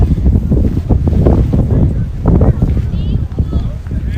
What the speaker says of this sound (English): The wind is really kicked up here. You may be able to hear how windy it is.